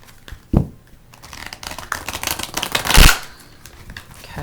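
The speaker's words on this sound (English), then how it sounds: "These cards are very difficult to shuffle for some reason." Tarot cards being shuffled by hand, a stiff deck riffling and rustling in close, loud bursts with a sharp slap near the start and a heavier flurry toward the end.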